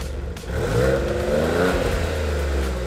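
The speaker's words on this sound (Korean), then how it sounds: "일단 스포츠 모드 넣으니 지금 이게 영상에 다 담길지 모르겠는데 약간 배기가 까랑까랑해졌습니다" A Maserati engine in sport mode growls and rises slightly as it revs, its exhaust rumbling low and steady from inside the vehicle.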